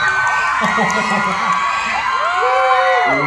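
At a studio launch event for a Thai drama series, a crowd of fans cheers and whoops, fairly loud and steady, with a host speaking over it.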